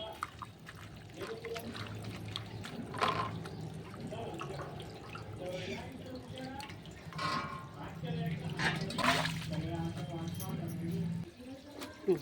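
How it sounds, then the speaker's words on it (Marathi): Wild pathri leafy greens are rinsed by hand in water, giving soft splashing, trickling and dripping sounds close by, with someone talking over the washing throughout. "आता मस्त धुवून घेते त्याला चांगली चक पाण्याने."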